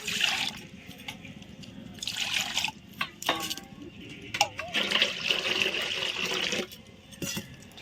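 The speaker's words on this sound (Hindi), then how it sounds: "एबे एतिकी पानी दे देली।" Water pours and trickles in uneven bursts, splashing into a container of milk and semolina batter, with a voice speaking intermittently over the liquid sounds.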